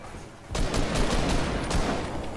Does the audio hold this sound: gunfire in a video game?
yes